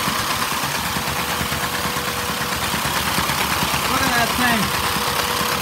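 A Lego inline-four vacuum engine runs steadily with a dense mechanical whirring and rapid clattering pulse, continuous and close, while someone talks briefly over it.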